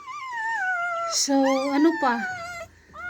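Newborn chihuahua puppies from a litter of five whimper and squeal in short, high, wavering cries close by, while a person talks over them.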